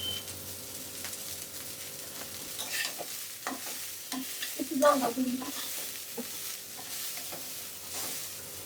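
Potato bhaja fries in a pan with a low, continuous sizzle while a spatula occasionally scrapes and stirs. The sounds are fairly quiet and close, with a few sharper clinks near the middle and no speech.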